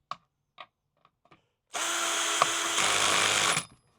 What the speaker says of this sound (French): je lève la lame pour aller bien sur l'épaulement de la vis et je visse